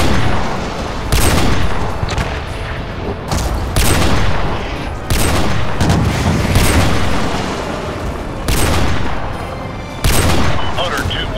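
Battle gunfire from Call of Duty: Modern Warfare 2, loud repeated bursts and booming shots at close range, separated by short gaps, with a constant rumbling din of combat underneath.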